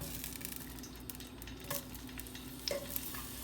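Half an onion sizzles softly in olive oil in a soup pot, a quiet steady frying hiss with a few faint clinks of a utensil against the pot.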